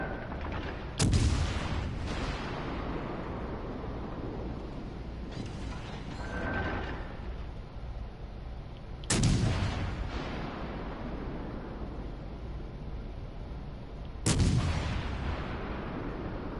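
Three heavy battleship gun salvos boom in a naval combat video game, each a sharp blast with a long rumbling decay, spaced several seconds apart over steady engine and sea ambience, no talking.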